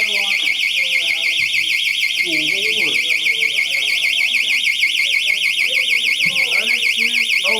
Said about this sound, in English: Fire alarm is so loud.